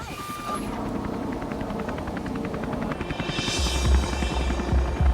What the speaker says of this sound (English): As the heli returns to the trailhead